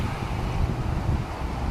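Steady wind rushes and buffets the microphone, a low rumbling roar filling the moment with no clear voices.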